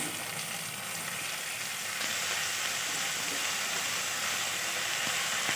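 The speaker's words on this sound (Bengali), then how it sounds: "পেঁয়াজটা লাল করে ভাজা হয়ে গেলেই দিয়ে দেবো আদা রসুনের পেস্ট এক চামচ" Sliced onion fries in hot oil in a pan while prawn noodles are being made, ginger-garlic paste going in, giving a soft continuous sizzle that swells slightly about halfway through, with no voices.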